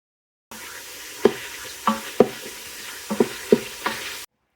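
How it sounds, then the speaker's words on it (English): Ground beef browning in a pressure cooker while it chili cooks, with a steady close sizzle broken by several sharp spoon knocks and scrapes against the pot. "Then going to add the ground beef, which I'm going to brown."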